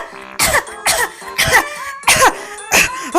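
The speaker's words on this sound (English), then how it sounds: "I am having a very bad cough." A cartoon character coughs in a rapid series of about six loud, harsh bursts close to the listener, evenly spaced with short gaps between them.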